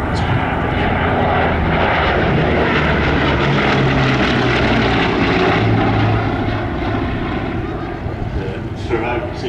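A Bristol Blenheim bomber flies past at an evening air display, its twin propeller engines giving a loud, steady droning roar that fills the whole stretch and eases slightly toward the end.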